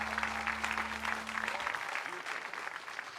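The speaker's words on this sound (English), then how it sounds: "They say not to talk over your applause, and that's his applause" An audience applauds after a band finishes a Christmas show song, steady broadband clapping throughout, with a sustained low tone at the start cutting off partway through.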